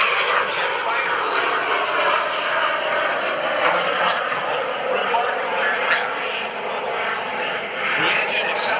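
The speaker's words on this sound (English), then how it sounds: "this is the Super Salto jet sailplane with a PBS Czech-built TJ100 jet engine used as an auxiliary power system in many jet fighters" A Super Salto jet sailplane powered by a Czech-built PBS TJ100 jet engine passes at an airshow with a continuous, fairly loud whining engine roar. It holds steady throughout with slight swells, heard from a moderate distance.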